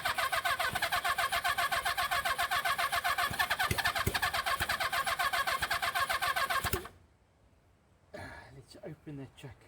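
Honda CB400 Four engine on a test bench, choke closed, catches and runs with a loud, rough, steady buzz for about seven seconds, then cuts out abruptly, followed by quiet, scattered voices nearby.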